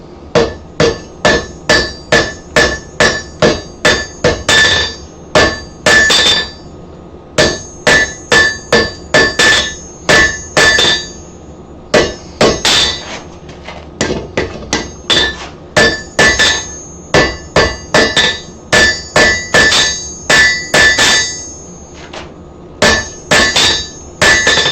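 Hammer repeatedly striking metal while shaping spoons and spatulas, a steady run of loud, ringing blows in quick bursts separated by short pauses, close and alone with no talking.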